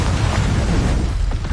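The Incendio fire spell is cast in Hogwarts Legacy, a loud, roaring burst of flame with a heavy low rumble that fills the whole short moment.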